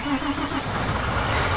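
A John Deere 7230R tractor engine starts in Farming Simulator 19, a loud close cranking rumble that settles into a steady running engine drone.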